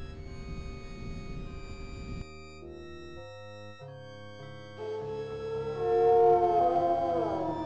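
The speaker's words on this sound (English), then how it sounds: "That howl was much closer than before." Dire wolves howl in the horror video game I Have No Mouth and I Must Scream: a long, wavering howl that begins after a low eerie drone and rises louder toward the end, with no speech.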